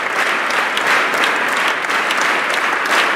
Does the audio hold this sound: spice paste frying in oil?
no